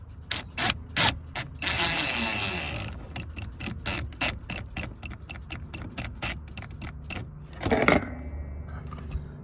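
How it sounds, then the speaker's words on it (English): Screw being driven in while fitting a blower motor resistor on a 1988–1998 Chevrolet Silverado, a close series of rapid ratcheting clicks in bursts, alone without talk. "Second screw going on right now."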